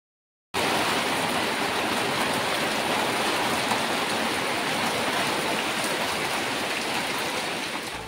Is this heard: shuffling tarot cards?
no